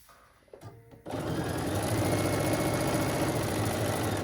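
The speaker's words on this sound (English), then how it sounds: "I love that you can just sew like really, really fast, you know?" A sewing machine runs fast and continuously while stitching strips for a quilt-as-you-go string quilt, starting after a few light handling clicks and holding a steady, close mechanical whir to the end.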